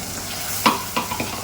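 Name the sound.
ground green masala frying in a pan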